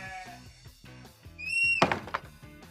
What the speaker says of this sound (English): Did you hear a baaing noise?